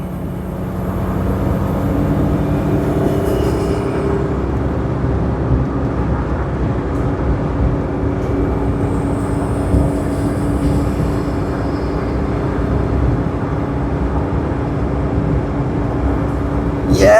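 Interior driving noise of a car fitted with aftermarket cruise control as it accelerates up to 100, a steady, loud, broadband road and engine drone filling the cabin without a break and with no talk.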